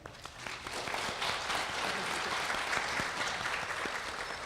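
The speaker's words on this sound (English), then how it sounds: "I'm going to ask you to clap for all of my staff now" An audience applauds staff members at a Harris County domestic violence survivors' event, a steady wash of many hands clapping that holds evenly throughout at moderate loudness.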